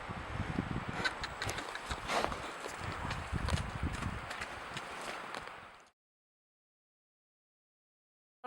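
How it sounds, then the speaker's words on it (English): Donkey hooves clip-clop steadily over rocky ground in northern Namibia, a close, continuous patter of uneven steps with light wind noise, cutting off abruptly into silence partway through. "This donkey's fast."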